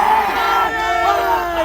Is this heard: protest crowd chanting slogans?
yes